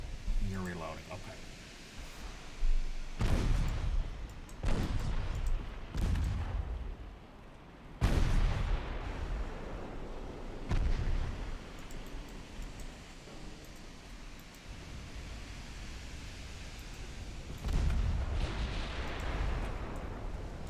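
Naval artillery in the Ultimate Admiral Dreadnoughts warship game: heavy booming gun blasts at irregular intervals, each with a long rumbling tail, over a constant background roar of battle.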